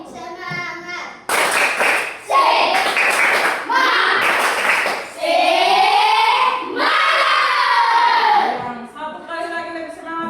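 A class of children clapping a rhythmic 'tepuk semangat' cheer routine in a classroom, with sharp bursts of claps alternating with chanted voices and a teacher's voice leading between rounds.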